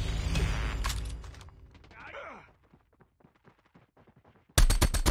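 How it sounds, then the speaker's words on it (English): A weapon reload in multiplayer COD Mobile: game noise fades into a run of quick mechanical clicks and metallic snaps, before a loud burst of gunfire cuts in at the end. "Changing mag, cover me!"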